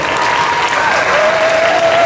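Dense, steady applause from a convention panel audience, loud and close, filling the whole moment without pause, a thin tonal whine running faintly beneath.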